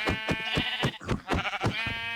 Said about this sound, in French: Oh, il y a un mouton, il y a un mouton.